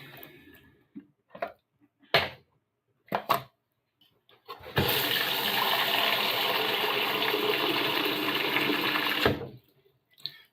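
Hot water running steadily from a tap for about five seconds, loud and close, framed by scattered knocks and handling sounds before and after.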